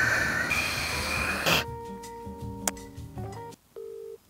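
A mobile phone placing a call outdoors, with the tones of the number being dialled and a short ringback pulse close by, following a stretch of busy background noise.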